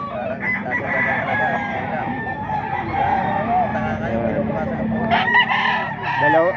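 Fighting roosters at a Filipino gamefowl farm crow loudly and close by, with clucking and other birds throughout, and someone talks underneath.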